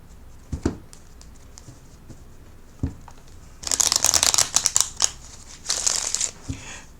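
Tarot cards being shuffled in a quiet reading, first a few soft isolated taps, then two close, crisp bursts of rapid riffling and shuffling.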